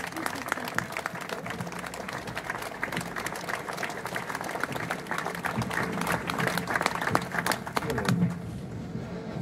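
Audience at a river-protection mobilisation day clapping, a busy patter of many hands continuing for several seconds with voices mixed in, moderately distant, fading slightly at the end.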